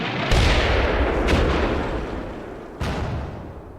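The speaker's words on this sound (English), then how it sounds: "You can hear my 60mm mortars in the background who are gunning for the German support" 60mm mortars fire in the Combat Mission WWII game: three deep, booming discharges land at intervals over a steady rumble of distant battle, with no talk.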